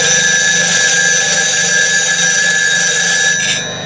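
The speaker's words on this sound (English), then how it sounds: "just offer that angle up against your grinder" A bench grinder sharpens a hollowing scraper tool, giving a steady, loud high-pitched whine with a constant tone that holds throughout and tapers off at the very end.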